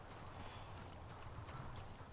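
Horse hooves pound in a steady galloping clip-clop in the video game Ghost of Tsushima, quiet and continuous beneath a dense layer of ambient game noise.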